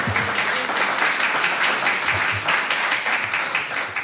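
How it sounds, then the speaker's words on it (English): Congregation applauding a violinist at a Sunday church service, a steady, dense wash of many hands clapping that holds evenly for the whole stretch with no voices over it. "Give her another round of applause."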